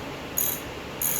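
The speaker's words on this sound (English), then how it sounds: "Alright, let's get these bolts in." Ratchet wrench clicking as bolts are tightened while mounting a C246 engine on a Farmall M tractor, two short bursts of rapid metallic clicks separated by a pause, close and fairly quiet, no talking.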